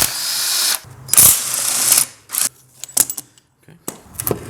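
A ratchet wrench works on the starter bolts of an Integra B20 VTEC transmission in a garage, with bursts of rapid clicking separated by pauses and a few quieter metallic clinks, close up and without talking.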